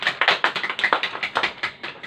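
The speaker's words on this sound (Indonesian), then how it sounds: "Berikan tepuk tangan untuk kelompok 2." Classroom applause for a student group during a small-group teaching session, a dense run of hand claps from several pupils, steady and fairly close for about two seconds with no talking.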